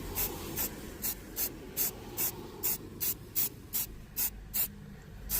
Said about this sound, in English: You can literally just spray it on anything.